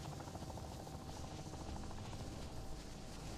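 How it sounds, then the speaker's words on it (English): A helicopter arrives in the Modern Warfare 3 Zombies video game, its rotor thumping and turbine whine forming a steady, dense drone that stays constant throughout. "Oh, no, there's my chopper."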